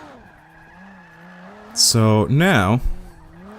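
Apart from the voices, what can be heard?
car drifting with tire squeal in the video game Forza 5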